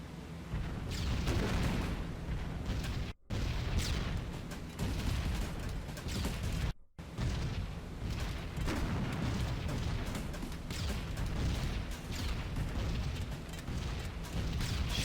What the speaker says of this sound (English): Shells exploding all the way around us